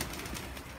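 Sick pigeons coo softly amid a dense, steady background of noise in a short, faint burst.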